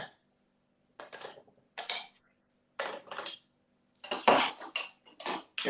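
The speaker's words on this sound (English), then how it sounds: "And we just stir." Cocktail stirred over a big block of ice, giving bursts of clinking and scraping in short irregular strokes separated by silence, close and moderately loud, growing busier toward the end with no voices.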